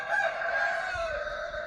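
A rooster gives a single sustained crow heard alone at moderate distance, one long wavering call that fills the short stretch.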